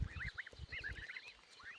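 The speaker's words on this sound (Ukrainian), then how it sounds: "Це гусята двохмісячні" Two-month-old goslings and older geese honk in a quick overlapping cluster of nasal calls over soft rustling and low thumps, moderately near.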